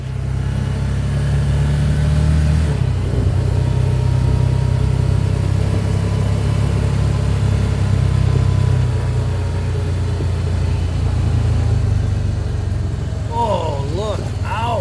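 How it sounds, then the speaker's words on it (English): Honda Big Red 700 UTV engine running steadily while driving, a loud continuous mid-pitched drone with low rumble throughout, shifting slightly partway through; a voice briefly sounds near the end. "This will be my last ride in the Honda."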